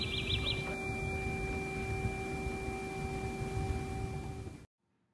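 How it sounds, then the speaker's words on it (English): Tuning fork struck and pressed to a table, giving a steady pure ringing tone with a brief chirp at the start, sustained over room noise until it cuts off. "But when I hit it again and I put it"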